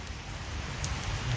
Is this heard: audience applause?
no